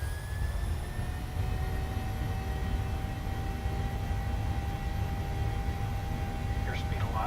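Jet aircraft engines spool up for takeoff in a flight simulator game, a steady loud roar with rising whining tones holding throughout, a faint chirp near the end.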